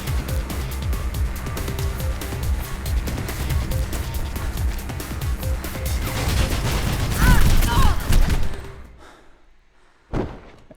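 Dense rapid gunfire hitting the player in the Mirror's Edge video game, a sustained loud barrage of cracking shots and impacts that builds, cuts off abruptly, then one last thud.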